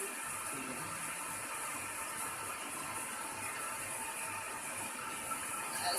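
Hot water is poured into a bottle in a steady, continuous rushing stream, close and even throughout, with no talking.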